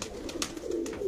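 Sialkoti pigeons giving a low, throaty coo that swells toward the end, close and fairly quiet, with light rustling taps.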